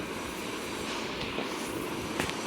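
A small battery-powered propeller motor on a homemade thermocol hovercraft boat whirs with a steady, buzzing hum, fairly close and continuous, with a faint brief clatter near the end.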